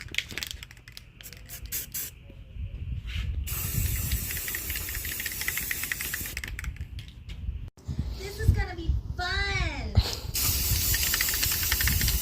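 A black primer coat is spray painted onto blocks, producing a steady close hiss of spray that runs through the clip. It is broken by short pauses and clicks, and people talk briefly near the end.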